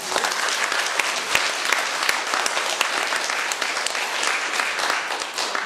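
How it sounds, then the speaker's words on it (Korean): Audience applause at a live Catholic book-launch talk show fills the room, a dense, steady clapping from a sizeable crowd that continues evenly for several seconds without letting up. "다 같이 한번 더 힘찬 박수."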